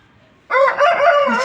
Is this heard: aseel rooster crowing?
yes